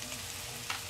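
Chopped kale fries in olive oil with salt, giving a short burst of dense, close sizzling with a brief louder crackle near the end.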